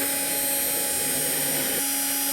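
Power drill boring a pilot hole into timber for a child's wooden chair, a steady whining motor drone that shifts pitch slightly near the end, close and continuous with no voices.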